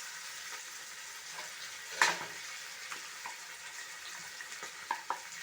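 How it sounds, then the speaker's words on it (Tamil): Chopped onion with ginger garlic paste fries in a pan on a stove over medium flame, a soft steady sizzle broken by a sharp clatter and a few light stirring knocks. "கொஞ்சம் செவந்ததும் இஞ்சி பூண்டு பேஸ்ட்டு ஆட் பண்ணுறேன்"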